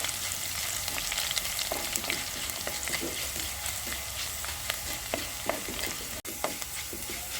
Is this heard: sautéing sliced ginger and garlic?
yes